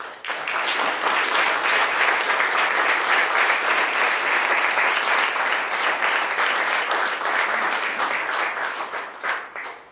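Sustained, loud applause from a large conference audience welcoming actress Kathy Bates as guest speaker at a research advocacy annual meeting, dense steady clapping for about ten seconds that tapers slightly at the end.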